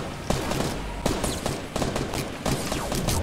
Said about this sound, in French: ça m'a tiré une balle de snipe